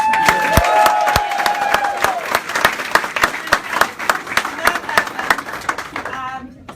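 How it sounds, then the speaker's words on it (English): Audience applause and some cheering fill a reception party celebrating marriage plaintiffs, with loud, dense clapping that carries steadily for several seconds before tapering off near the end. "How about a round of applause?"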